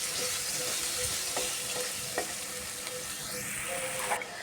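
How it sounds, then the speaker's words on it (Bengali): Ingredients and spice paste frying in a pan for chicken and split chickpea dal, a steady sizzle with occasional stirring scrapes and clinks, close and continuous with no talking. "সবগুলো উপকরণ দিয়ে কিছুক্ষণ ভেজে নেব।"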